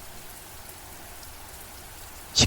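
Heavy rain pours steadily onto forest leaves and a poncho-covered helmet, a dense close hiss throughout with a brief louder splash at the end.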